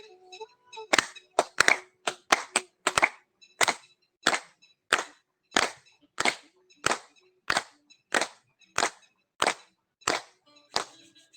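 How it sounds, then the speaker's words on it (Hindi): A group claps in unison about fifteen times during a yoga session, sharp, evenly spaced, loud claps forming a steady rhythm with a few quicker claps at the start. "उनके लिए सभी के लिए तालियां बजा लें 15 बार"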